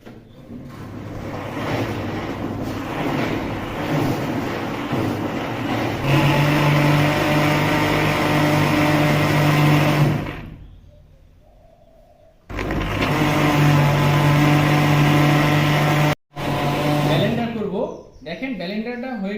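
A blender motor whirs steadily as it grinds aak (Calotropis) leaves and garlic, then cuts out for a couple of seconds before starting up again and running on.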